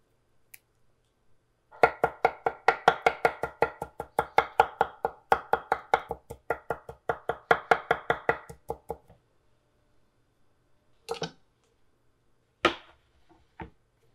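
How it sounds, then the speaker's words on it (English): A knife minces parsley on a cutting board, about forty rapid, steady chops over seven seconds, close and loud, followed by a few isolated knocks after a pause. "mince a couple tablespoons"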